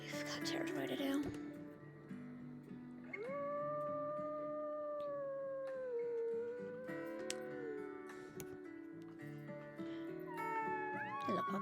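Wolf pups in a video game give long, wavering howls and whines, several voices overlapping and rising and falling in pitch, with a person speaking softly in the background.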